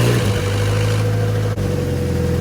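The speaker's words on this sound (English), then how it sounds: "Let's start her up to see how she sounds." A Mazda Miata engine catches and settles into a steady, droning idle, loud and close with a constant low hum throughout and no talking.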